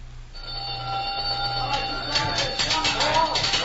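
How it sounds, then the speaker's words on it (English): A prison supper gong rendered as a radio drama sound effect: sustained, ringing metallic tones that swell and carry on with clattering overtones, loud and close. "The gong will sound off any minute."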